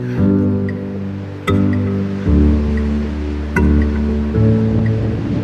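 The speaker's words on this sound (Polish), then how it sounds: "to jest jednak jeden z elementów wybrzeża naszego, czyli mocny wiatr i dzisiaj wzburzony Bałtyk" Strong wind buffets the coast of the rough Baltic Sea, a loud, continuous roar of gusts and crashing surf with repeated heavy bursts, no voices heard.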